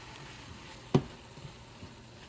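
Ground beef with jalapeno, salt and pepper fries quietly in a pan, giving a soft, steady sizzle with one sharp clink of a utensil against the pan partway through.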